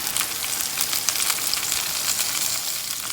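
Risotto rice with white wine sizzles steadily in a hot pan, a dense crackling hiss with light scraping from stirring, close and alone with no voices.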